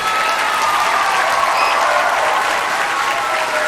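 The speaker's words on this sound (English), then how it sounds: "Big round of applause for our solo violinist" Warm, continuous clapping from a concert audience after a violin and puppet performance with a high school orchestra, many hands blending into a dense, uniform roar from start to finish.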